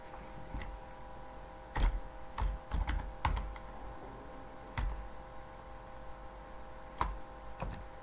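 Keys on a computer keyboard tapped in scattered bursts while writing Spring Boot REST API code, with irregular clicks and brief pauses against a quiet room hum, fairly close and soft.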